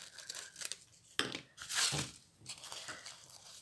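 Scissors cut through crepe paper for a paper rosette, giving close crinkly snips and tearing rustles in a few irregular bursts with quiet gaps between.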